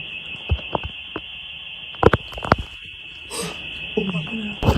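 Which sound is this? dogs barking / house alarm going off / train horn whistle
house alarm going off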